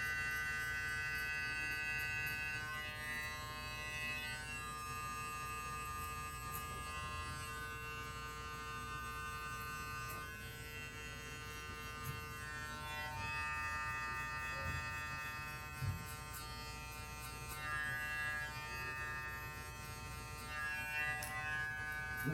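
Continuous close electric buzz of a hair clipper fitted with a taper blade working through hair during a low fade cut, a steady hum with small fluctuations as it moves.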